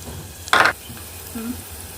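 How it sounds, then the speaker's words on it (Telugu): Onion, mustard seeds and cumin hit hot oil in a single short, loud sizzling burst up close, then a quieter low background, with no talking. "ఉల్లిపాయ వేసుకుంటున్నాను సన్నగా కట్ చేశాను ఆవాలు జీలకర్ర వేసుకుంటున్నాను"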